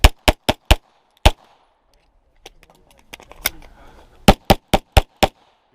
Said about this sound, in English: It's 5 shots, not 4.